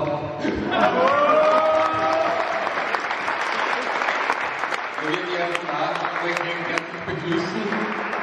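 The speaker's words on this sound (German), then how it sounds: "Applaus." An audience at a competition event claps loudly and continuously, with voices and cheering mixed into the applause.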